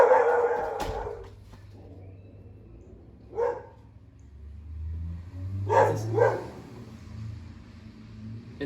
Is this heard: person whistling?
no